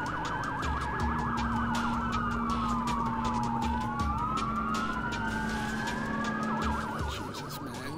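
Loud wailing police sirens, several overlapping and rising and falling continuously, with a steady low engine hum underneath and no talking.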